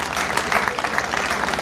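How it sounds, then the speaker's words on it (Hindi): A gathering at a village khap panchayat breaks into brief applause, a short, dense patter of many hands at moderate loudness with no voices heard. "इसके लिए तालियां होनी चाहिए।"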